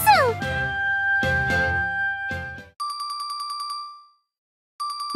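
A smartphone rings with an electronic ringtone, a rapid repeating chime pattern that follows a few bright melodic notes, pauses, then starts again.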